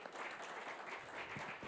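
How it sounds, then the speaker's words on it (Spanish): An audience at a medical microbiology symposium bursts into applause, a dense, even wash of many hands clapping together, steady throughout at moderate distance with no speech over it. "Pues un aplauso"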